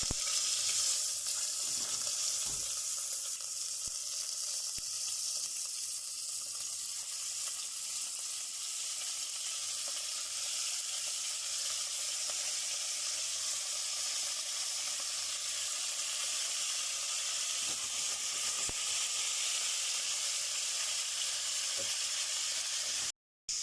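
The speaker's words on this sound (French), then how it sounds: "L'huile est fumante. Et là, on va venir faire colorer nos morceaux de bœuf." Seasoned beef pieces sear in smoking-hot oil, a loud, steady, close sizzle and crackle that holds without break for over twenty seconds, with occasional small pops.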